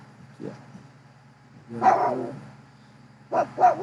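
A nearby dog in a garden barks several times: a short yip, a louder drawn-out bark, then two quick barks, over a faint background hum.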